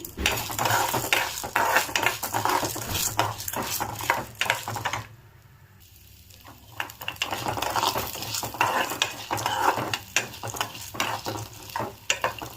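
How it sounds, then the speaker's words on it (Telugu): Chana dal fries in a little oil while a spoon stirs and scrapes it around the pan in quick rhythmic strokes over a constant sizzle, with a short quieter pause midway. "శనగపప్పు వేసుకుందాము. ఆయిల్ కొంచెమే వేసుకోండి. బాగా వేగనిద్దాము."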